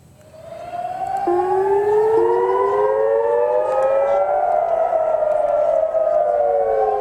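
A civil defense warning siren in Haifa, Israel, rises and wails steadily, overlapping tones sweeping up and down, loud and sustained throughout after a quieter start.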